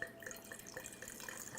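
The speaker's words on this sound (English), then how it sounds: "As I'm pouring this in" California Cabernet Sauvignon red wine is poured into a glass in a steady, soft liquid stream with light splashing. Quiet and continuous, without talking.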